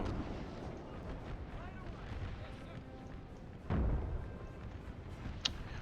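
Artillery fire in the multiplayer video game Napoleon: Total War with an American Civil War mod, a low booming blast standing out midway over a continuous rumble of battle, with someone talking throughout.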